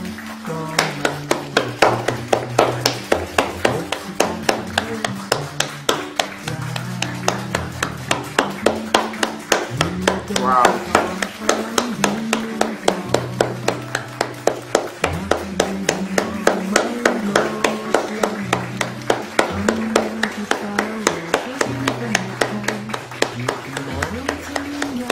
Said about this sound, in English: here they are outside of the balcony and their windows clapping